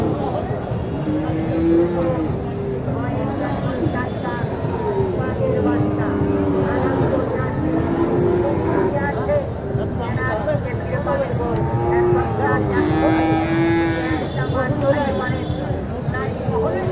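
A Nepali breed cow at a busy rural cattle market in Naogaon, Bangladesh, its repeated lowing and moos rising over a constant din of crowd chatter and people talking close by.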